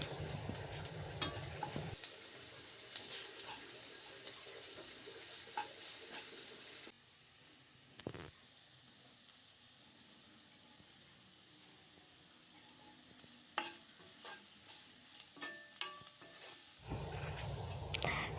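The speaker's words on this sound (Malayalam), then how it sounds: "ചതച്ച് വെച്ച വെളുത്തുള്ളിയും കുരുമുളകും കൂടി അങ്ങനെ ഇട്ട് കൊടുക്കാം കേട്ടോ. അത് നല്ലോണം അങ്ങോട്ട് വഴറ്റിയെടുക്കുക." Onion with crushed garlic and pepper sizzles and frying in a hot pan while a spoon stirs, a steady close crackle that drops quieter midway, with stirring clatter and scraping, then swells again near the end; no talk.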